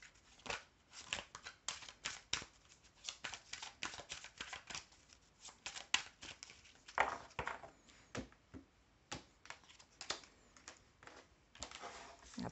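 Tarot cards drawn from a deck give a faint, close run of soft flicks, slides and light taps, irregular but continuous, with no talk.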